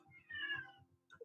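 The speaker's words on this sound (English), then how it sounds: "Sorry if you can hear a meowing cat here." A cat meows close by with a clear, drawn-out call, followed by a shorter second cry, indoors and with nobody speaking over it.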